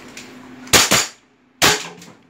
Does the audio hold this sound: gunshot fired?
yes